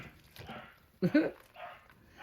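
A neighbor's dog barks a couple of times at moderate distance outside a kitchen where mushrooms are being pressure canned, with low background noise and faint indistinct voices around it.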